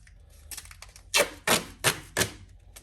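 Strips of tape being pulled and pressed over seams while sealing LSA supercharger intake runners for porting, heard as four loud, sharp ripping bursts in quick succession after a few quieter handling noises.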